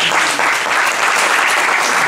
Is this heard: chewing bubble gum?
no